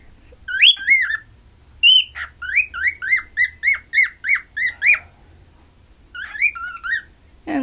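Pet cockatiels squawk and chirp in sharp, whistled bursts, a quick series of near, loud calls repeated in a steady rhythm with short pauses between groups, no talking over them.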